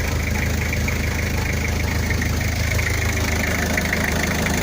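Toyota Dyna LY161 with a 3L diesel engine, 4WD, idling steadily with a constant low knocking rumble, close and loud throughout with no talk.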